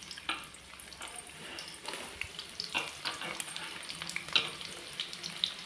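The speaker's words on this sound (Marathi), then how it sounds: "कांदो जरा चांगलं परतून घेऊया." Chopped onions sautéing in hot oil for a spicy Malvani mutton curry, a faint steady frying sizzle broken by irregular clinks and scrapes of a spoon stirring in the pan.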